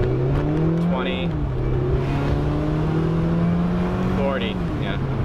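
An NC Mazda Miata accelerates hard from a standstill toward 60, the engine droning loudly and climbing in pitch through a couple of gear shifts, heard close from inside the car.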